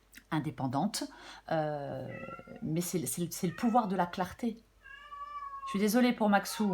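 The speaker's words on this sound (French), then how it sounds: "c'est un chat qui s'exprime beaucoup" A talkative pet cat meows loudly and repeatedly in a home, its drawn-out cries alternating with a woman's speech close by.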